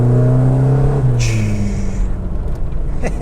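A Ford Escort JPS engine fitted with a Garrett turbo revs, a low, throaty drone that climbs and then drops away, with a brief high whistle near the peak.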